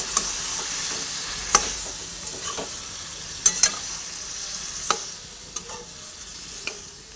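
Taro leaves are stirred in a frying pan, giving a steady hiss of frying with scattered scraping clinks of the spoon against the pan, some sharper than others, close by and with no voices.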